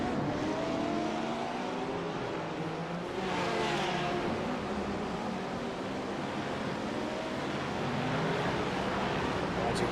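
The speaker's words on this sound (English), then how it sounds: "There's Dre, as he's just had some of our GTP traffic work their way through." GTP prototype race cars work their way through slower GT3 traffic at the Red Bull Ring, heard as a continuous roar of engines at moderate distance, with a louder surge as cars pass midway.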